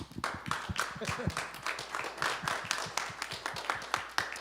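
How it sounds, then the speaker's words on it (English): A church mission team's gathering breaks into applause, a steady patter of scattered hand claps that rises and falls in small bursts over several seconds with a voice briefly mixed in. "And we want to give you a round of applause"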